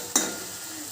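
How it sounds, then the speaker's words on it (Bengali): Onions sizzle and fry in mustard oil in a home kitchen pan, a sharp stir-like burst near the start followed by a steady, low hiss of frying. "এখানে পেঁয়াজ ভাজা হচ্ছে"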